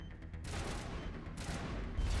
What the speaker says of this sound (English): I can hear somebody shooting.